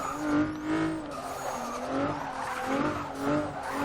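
A car at high speed drifts through a turn with its rear end sliding out, tires squealing in rising and falling wails over a steady engine drone, moderately loud and unbroken.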